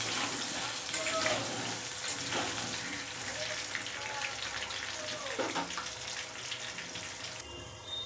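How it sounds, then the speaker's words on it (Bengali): Potatoes frying in oil over cumin, bay leaf and dried chilli, a continuous broad sizzle close by with occasional stirring scrapes and clinks. "এবার আমি আলুগুলো লাল লাল করে ভেজে নেব।"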